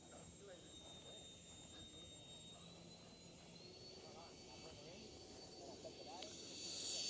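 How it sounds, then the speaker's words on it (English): A Flex Innovations Flex Jet RC model jet flies at an RC event, a thin steady turbine whine with a rising pitch toward the end, under ongoing chatter from people nearby. "That is the Flex Jet right there"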